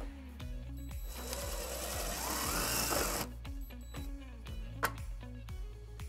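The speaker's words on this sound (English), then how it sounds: "3/16 drill bit, we're going to drill our first hole" A 3/16 drill bit bores a hole during a trailer wiring harness install on a 2003 Infiniti QX4, a whirring burst of a few seconds amid rhythmic mechanical clicking, close and moderately loud, with no speech.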